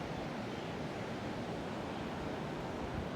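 Big tidal waves surge up a river during a tidal bore, a steady, dense roar of rushing water filling the whole stretch without a break, close and loud with no voices over it.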